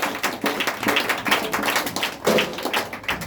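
Church congregation clapping and applauding in praise to God, a dense, steady patter of many hands filling the room, with occasional thumps and faint voices mixed in.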